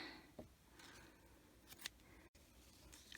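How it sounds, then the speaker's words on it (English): Scissors snipping yarn during crochet work, a few faint crisp snips spread over a quiet room background. "My scissors."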